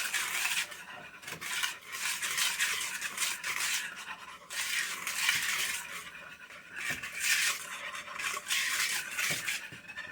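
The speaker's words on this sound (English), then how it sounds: "we're going to incorporate all the dry ingredients" Dry cake batter ingredients, including baking soda, are stirred together in a mixing bowl, giving a steady, close scraping and rubbing with light clinks of a utensil against the bowl, with no talking.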